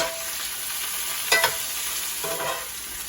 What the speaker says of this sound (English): So we're just going to start getting a little color on those onions.